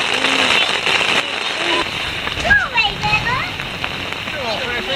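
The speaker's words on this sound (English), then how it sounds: "We can't even hear each other because it's raining so bad" Heavy rain and hail pound steadily on a surface close by in a loud continuous patter, while voices talk over the din.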